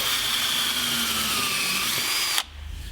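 Power drill countersinking pre-drilled screw holes in a plywood table saw storage cabinet, a steady close whining drone that cuts off sharply near the end, leaving a low hum.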